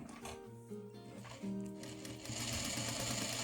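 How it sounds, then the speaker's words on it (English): A sewing machine stitches bias tape onto a face mask, its motor whirring in short starts then running steadily, quiet and close. "and start sewing"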